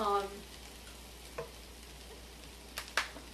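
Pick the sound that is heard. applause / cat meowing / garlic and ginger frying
garlic and ginger frying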